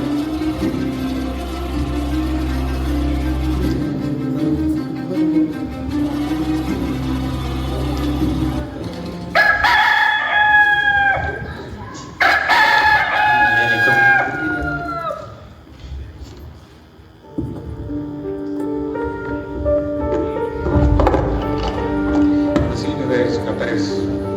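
During a church Palm Sunday performance, a rooster crows twice in a row in the middle stretch. The crows are surrounded by speech and background music.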